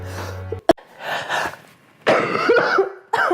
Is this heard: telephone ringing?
no